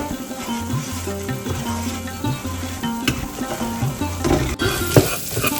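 Spice masala stirred in a pan for Maharashtrian katachi aamti, sizzling steadily in oil with a spoon scraping and clinking now and then, close and continuous with a low hum beneath.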